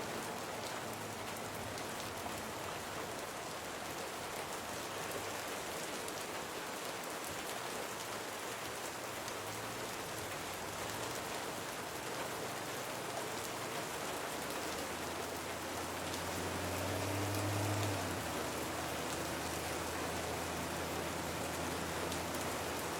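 Rain pours steadily onto a broken-down blue car, a dense, even hiss of drops drumming on the surface that stays constant throughout, with a brief low rumble swelling near the end and no voices.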